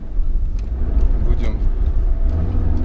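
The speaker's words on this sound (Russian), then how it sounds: "Машина гудит." A Mitsubishi Pajero's engine hums while driving, a steady low rumbling drone close inside the cabin, with voices talking over it.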